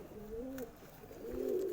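Two soft, throaty coos from a pigeon, a Madras breed bird, close by against a faint background hum.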